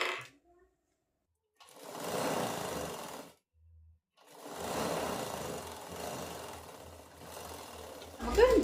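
A sewing machine runs double stitching on the legs of cigarette pants, two sustained whirring bursts separated by a pause, close and steady, with a clunk at the end.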